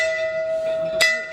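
A temple bell at Shri Kshetra Kanheri rings with a clear, sustained metallic tone that hangs throughout, with a sharp knock near the end and faint voices nearby.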